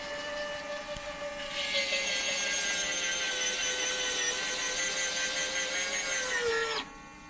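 Retractable landing gear on a Meister P-47 model airplane cycling with a steady electric servo whine that rises, holds for several seconds, then cuts off abruptly, close and clear.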